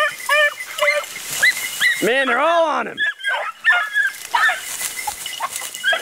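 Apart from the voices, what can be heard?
beagle hounds baying on a rabbit track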